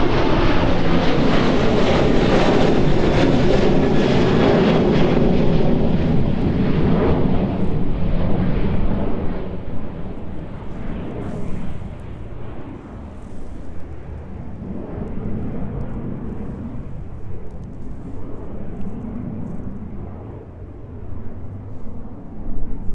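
A Ryanair jet climbs away after takeoff at East Midlands Airport, a loud, close engine roar that fades gradually into a more distant rumble, with a short swell near the end.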